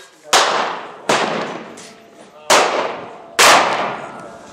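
A 12 gauge shotgun fires reloaded rounds through a chamber adapter, four sharp loud reports spaced about a second apart, each trailing off in a long ringing decay outdoors.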